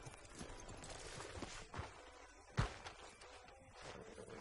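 Horse hooves clip-clopping at a walking pace in Red Dead Redemption 2, soft and fairly close, with one sharper thud partway through.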